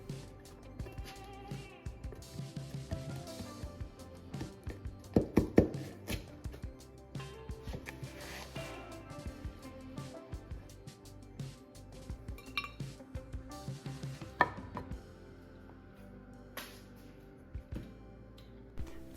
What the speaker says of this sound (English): let's cut ourselves a slice and dig in